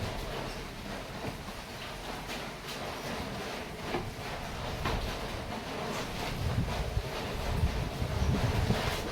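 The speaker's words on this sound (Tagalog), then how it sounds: "malakas ang hangin" Strong wind buffeting the microphone outdoors, a steady heavy roar with gusts that build louder toward the end, and no other clear sounds.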